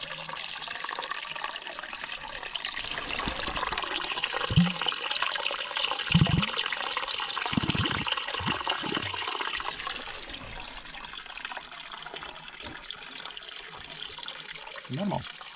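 Water pours and gurgles steadily out in an outdoor spot near the Bērze river, a continuous rushing flow that fades somewhat toward the end, with occasional thumps and brief voices nearby.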